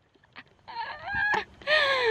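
Honking goose calls on a golf course, several harsh calls rising in loudness and overlapping, fairly close and with no talk.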